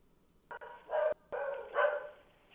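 Dogs bark in a recording played back, a couple of bursts of barking with a brief gap, moderately loud and clear, no talk over it.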